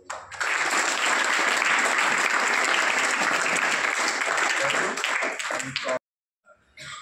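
Sustained applause from the audience at a charity-run exam kit distribution for tenth-class students, dense and steady for about six seconds before stopping abruptly, followed by faint stray sounds.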